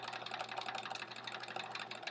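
A sewing machine runs steadily with a quarter-inch presser foot, stitching a quilt block in a quilt-as-you-go project; a close, fast, even mechanical whir with rapid needle ticks carries on without pause.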